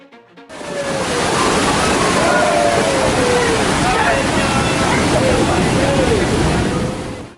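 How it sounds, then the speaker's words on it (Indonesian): High ocean waves surging and crashing on the Bali coast, a loud continuous roar of rushing water with voices faintly audible underneath. "Gelombang tinggi di Bali."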